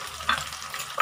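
Sardines and egg get stirred in a sizzling pan, with a steady fry hiss and two brief louder scrapes of the spatula, close and with no one speaking.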